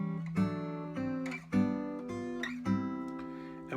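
Clean guitar strums a back-cycling sequence of triads and seventh chords, each chord ringing out in turn at an even, unhurried pace, quiet and alone.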